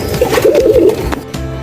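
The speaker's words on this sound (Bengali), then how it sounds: "সবগুলোই মাশাআল্লাহ হাই ফ্লায়ার কবুতর" High flyer pigeons in a loft give a close, loud run of throaty coos lasting about a second, then fade into soft rustling.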